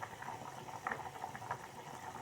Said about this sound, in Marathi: आप देख सकते हो कितना अच्छा बॉईल आ रहा है